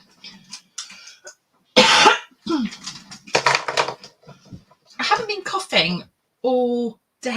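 A woman at home coughs in several short, sharp bursts between stretches of her own talking, close and fairly loud.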